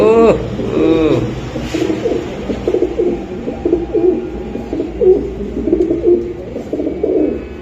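Silver Giribaz pigeons of Pakistani stock coo close by in soft, repeated rolling phrases that run steadily through the clip, with faint chirps and a voice briefly in the background.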